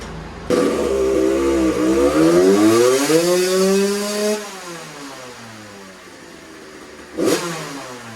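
A 2001 Suzuki RM 80 two-stroke with an FMF shorty silencer is run on a dyno: a loud, close engine note rises steadily in pitch through a full pull, drops away, then gives a brief sharp blip near the end.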